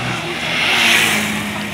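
A four-cylinder car engine revs loudly and close by on a steep hill, the pitch climbing and swelling to a peak before easing slightly over a short burst, with no talk.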